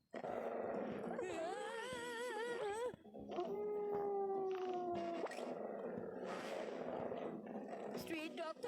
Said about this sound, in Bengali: স্ট্রিট ডগ তো বাঘ হয়ে গেছে